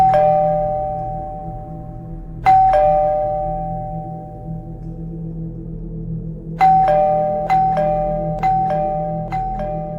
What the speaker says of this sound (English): my doorbell is just constantly ringing